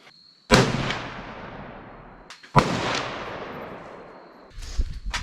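Gunshots at an outdoor shooting range, two loud sharp reports about two seconds apart with long echoing decays, then a third, softer burst of shots near the end.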